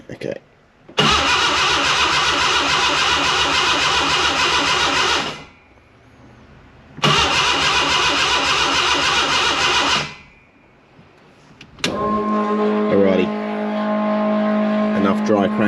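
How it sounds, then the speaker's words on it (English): Mazda RX2 rotary engine dry cranking on the starter in two long bursts of several seconds each with pauses between, followed by a different steady mechanical sound near the end. "dry cranking."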